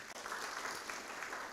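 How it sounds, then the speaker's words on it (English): Audience at a university innovation week event applauds themselves, a faint, steady wash of distant clapping without clear individual claps. "Clap for yourselves."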